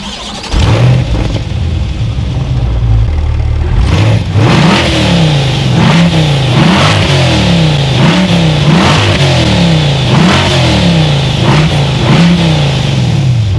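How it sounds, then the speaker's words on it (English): A 2020 Chevrolet Corvette C8 starts with a sharp bark and settles into a loud idle, then its exhaust is blipped repeatedly in a series of quick, evenly spaced revs close by, with no talking. "how about we take a listen to that exhaust?"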